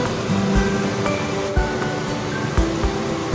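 Chopped tomatoes fry in a pan for paneer butter masala gravy, giving a close, steady hiss and sizzle with a few sharp pops and clinks of a spoon against the pan.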